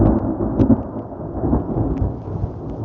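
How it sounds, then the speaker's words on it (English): Deep, rolling thunder rumbles outdoors during night fishing for carp and bullheads, loud and sustained for several seconds with a soft rain patter, no voices. "There's some thunder."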